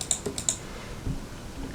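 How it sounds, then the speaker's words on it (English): A few quick computer keyboard key presses, a short cluster of clicks for an Alt, Shift and G shortcut used to undo a compound clip in CapCut on PC, close and fairly quiet, with no talking. "just press on Alt, Shift and G on your keyboard to undo the compound clip"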